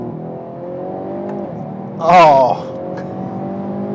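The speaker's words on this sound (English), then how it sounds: "Let me downshift a bit." Hyundai Veloster N engine on a winding road, steady engine drone with a brief louder rev burst in the middle after a downshift, heard from inside the car with a short spoken exclamation over it.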